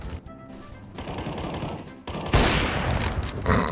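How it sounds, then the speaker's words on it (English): Gunfire in Counter-Strike: Global Offensive, a run of rapid shots that grows louder and denser partway through, then a fresh close burst near the end, with no talking over it. "You were shooting a dead body"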